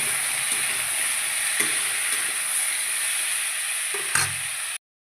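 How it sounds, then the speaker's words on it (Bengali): Vegetables with salt, turmeric, coriander powder and green chillies fry and are stirred in a pan, making a dense, even sizzle with a few soft scrapes before it stops abruptly. "এভাবে নেড়ে চেড়ে ভেজে নিব"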